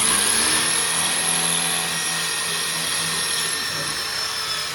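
A power drill bores into a wall with a steady, loud whine, running continuously throughout with a slight tapering toward the end.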